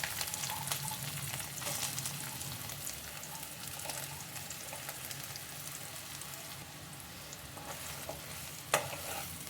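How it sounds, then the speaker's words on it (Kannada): Soya chunks stir-fried in oil over high flame, with continuous quiet sizzling and the repeated scrape of a spatula mixing them, faint and without speech. "ಇದಕ್ಕೆ ಮಿಕ್ಸ್ ಮಾಡಿಕೊಂಡು ಚೆನ್ನಾಗಿ ಫ್ರೈ ಮಾಡ್ಕೊಳ್ಳಿ ಎಣ್ಣೆಲ್ಲೇ."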